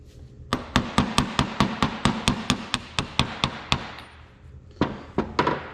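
A bearing being driven into a cooler pump with a new socket and hammer, on a 1855 tractor: a fast run of about fourteen loud, sharp metallic hammer blows, a brief pause, then four more strikes.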